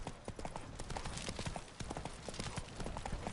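Roach the horse gallops in The Witcher 3, hooves clip-clopping in a fast, steady run, close and loud over continuous game ambience.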